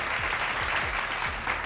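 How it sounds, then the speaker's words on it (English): A short burst of crowd applause, a continuous wash of clapping heard alone without speech, steady in level for under two seconds. "Round of applause."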